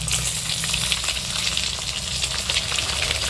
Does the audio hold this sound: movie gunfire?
no